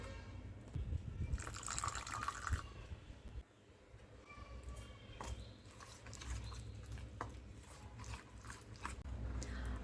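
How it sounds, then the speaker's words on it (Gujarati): Water is poured into fasting dhokla batter in a bowl, a soft liquid trickle and wet stirring close by, fairly quiet and continuous, with no voices. "તો હજુ તેમાં પાણી એડ કરીશું"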